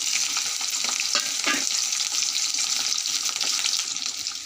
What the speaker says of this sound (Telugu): ఆయిల్ హీట్ అయిందండి. ఇప్పుడు కడిగి పెట్టుకున్న రొయ్యలు వేస్తున్నాను.